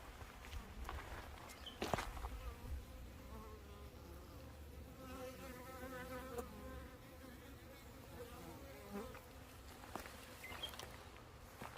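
Black hornets buzz around beehives in an apiary, a steady close insect drone that lasts throughout, with a few soft knocks and footsteps on the ground.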